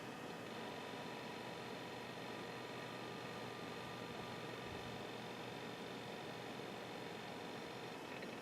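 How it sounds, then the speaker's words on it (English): A Toshiba 430CDT laptop's hard drive runs noisily with its battery pack missing, a constant whirring hiss with a steady hum underneath, unbroken for the whole stretch and no one speaking. "I am missing the battery pack, so the hard drive is a little more noisy."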